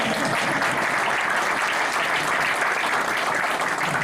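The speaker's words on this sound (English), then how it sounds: "It's okay to give him another round of applause." Another round of applause fills a town hall on Sharia, a dense, even wash of many hands clapping, steady and fairly loud for the whole stretch, no voices over it.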